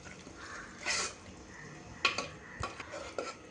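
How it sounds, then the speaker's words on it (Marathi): Cooked moth bean dal with onion and tomato is mashed in a small pressure cooker, giving scattered stirring and scraping clinks of a utensil against the metal pot, in short bursts with pauses. "आता ती घोटून घेऊया।"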